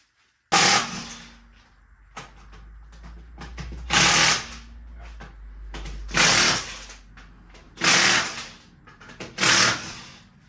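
A small Milwaukee cordless impact wrench hammers at coilover bolts on an E34 BMW Touring, loud close bursts of rattling impacts about two seconds apart with quieter gaps between, no talk.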